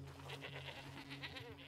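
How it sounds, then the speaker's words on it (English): An alpine goat bleats in Red Dead Redemption 2 amid a wavering, nasal call over a low steady hum, fairly close and moderately loud with no talking. "Study an alpine goat."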